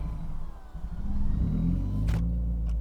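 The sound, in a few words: Subaru WRX engine with repaired turbo running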